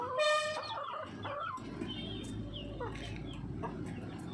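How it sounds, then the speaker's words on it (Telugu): Chickens clucking in the hot midday sun, a sharp burst of calls at the start and then softer scattered clucks over a rough outdoor background. "చూడండి అన్ని కోళ్ళు అలాగే అంటున్నాయి ఎండకి."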